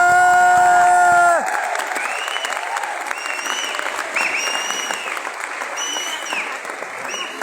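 A seminar audience in Gwalior claps together in a sustained round of applause that follows a brief tonal musical sting, the clapping dense and moderately loud with a few scattered shouts and crowd murmur.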